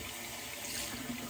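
Tap water runs steadily to soak a shaving soap puck, a soft continuous splashing hiss at low level with no talk over it.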